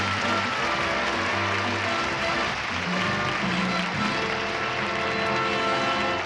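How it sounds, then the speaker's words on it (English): Studio audience applauding on a 1972 game show, a loud, sustained patter of clapping with a buzzy hum underneath, filling the whole span without talk. "A nice round of applause for Doug."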